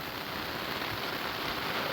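Steady rain pattering on a surface at night in a forest at Udumbum Kunnu, Mayyil, a constant dense hiss with no pauses and no voices.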